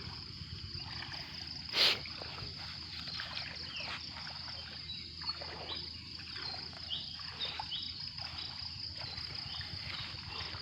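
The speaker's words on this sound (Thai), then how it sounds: "น้ำไหลเชี่ยวนะฮะ" Steady rushing water of the flooded Aek river in Thailand runs throughout, a continuous broadband wash with one brief louder knock near the start; no voices.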